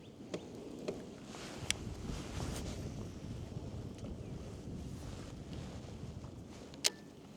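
Cold wind buffets the microphone on open water during a bass fishing trip, a steady rushing roar with a few sharp knocks and thumps from the boat, no talking.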